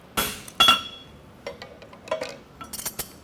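A bob punch strikes a St. Croix Forge horseshoe at the forge with sharp metallic clinks, two bright ringing hits followed by a scatter of lighter taps and knocks, close and without talk.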